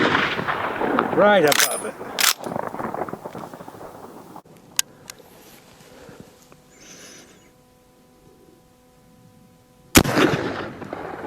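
Winchester 1886 takedown lever-action rifle fired at a target outdoors, two loud sharp reports early followed by a later shot, with brief talking in between.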